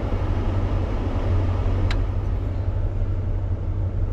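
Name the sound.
heater fan on high in a 1966 Ford Galaxie 500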